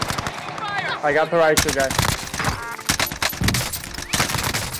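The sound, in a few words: gunfire, from the video game Call of Duty Warzone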